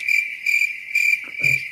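Crickets chirp in steady pulsed bursts, four even trills repeating about every half second, loud and close, with a brief soft rustle near the end.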